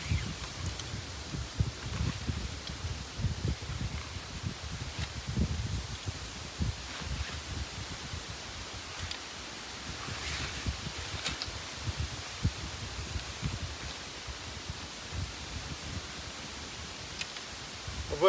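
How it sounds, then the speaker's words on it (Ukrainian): Low, uneven wind rumble from a strong storm buffets the microphone outdoors while fishing, with faint rustling and scattered ticks over a quiet background. "Вітер, друзі, сьогодні просто капець дує."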